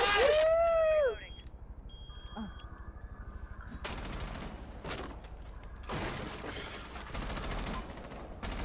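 Gunfire in the tactical shooter Rainbow Six Siege, with a few loud sharp shots spaced out over a low background rumble, while players talk in the background.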